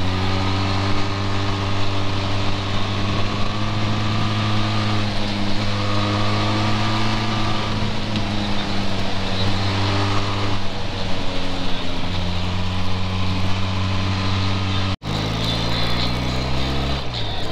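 Motorcycle ride on an open road, a steady loud engine drone with clear harmonic tones rising and falling as the rider shifts through gears, then an abrupt change to a lower note near the end.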